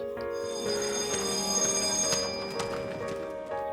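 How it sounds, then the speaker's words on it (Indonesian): School bell ringing for dismissal, a sustained, steady electric ring with bright tonal overtones that holds loud and unbroken throughout, with faint background clatter. "Tak lama kemudian, bel pulang bunyi."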